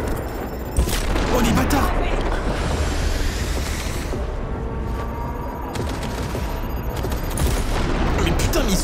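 Gunfire and explosions in the video game Cyberpunk, including explosive rounds and grenades, form a loud, dense, continuous barrage of shots and booms while a player talks over it.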